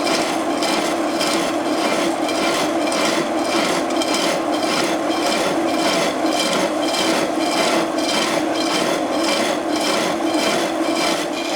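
A homemade special tool cuts big threads, giving a continuous, loud, close grinding rasp with a fast, even rattling pulse running through it for the whole stretch, no voices.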